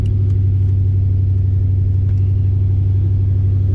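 A car with an AOD automatic transmission drives along, its engine giving a loud, steady, close low drone and rumble throughout, with no talking.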